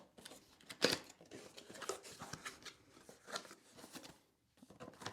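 Scissors snip through the packaging of a battery pack for a Swytch electric bicycle wheel kit, making a string of faint, close cutting clicks and plastic rustles.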